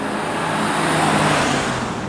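A Cadillac CTS-V accelerating, heard as a steady, loud broadband roar of engine and road noise from inside the car, with no talking.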